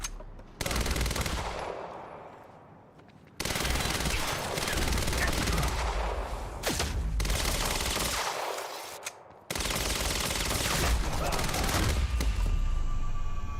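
SMG bursts in the Quantum Break video game, three long sustained volleys of rapid automatic fire, loud and close, separated by brief gaps with a sharp trailing shot near the end.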